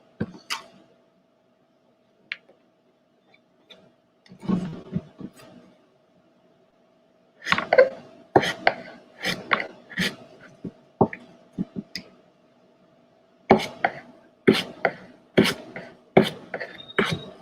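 A knife chops vegetables for a bowl on a kitchen board, giving irregular bursts of crisp, close taps separated by pauses, with faint quieter knocks in between.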